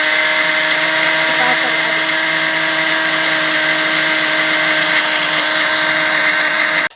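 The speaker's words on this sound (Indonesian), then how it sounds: "Oke, kita akan blender semua bahan." An electric blender whirs at a high, steady pitch as it purees black sesame marinade ingredients with honey for chicken, running continuously and loudly close by before cutting off abruptly at the end.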